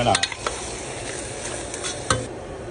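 Chicken sinampalukan being stirred in a pot after fish sauce and pepper go in, a soft ongoing sizzle with a few clinks and scrapes of the spoon against the pot, fairly close and quiet.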